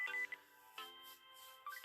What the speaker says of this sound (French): Je suis réveillé par la sonnerie du téléphone.